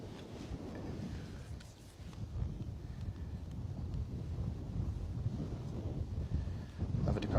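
Strong wind buffets an outdoor microphone at Bristol Airport, a continuous low roaring rumble with gusts that swell near the end, no voices.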